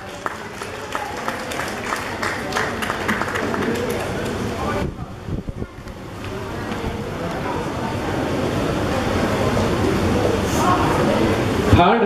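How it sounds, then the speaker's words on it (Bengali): Audience applause at a Bengali New Year (Nababarsha 1426) prize-giving event, a sustained wash of many hands clapping that swells and holds for several seconds, briefly dipping midway before building again loudly. "সবাই জোরে হাততালি।"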